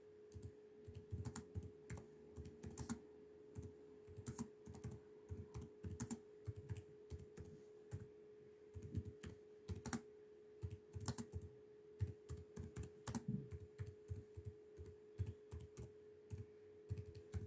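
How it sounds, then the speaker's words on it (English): Fingers tap out irregular bursts of clicks on a computer keyboard, close and crisp, with short pauses between runs of keystrokes over a faint steady hum. "Sorry, y'all, I'm typing."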